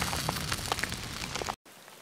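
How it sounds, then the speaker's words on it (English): Steady rain pattering on surfaces outdoors during a thunderstorm on a wooded day hike, a dense continuous hiss with scattered drop ticks, cutting out abruptly near the end. "So it's raining and I left the woods behind."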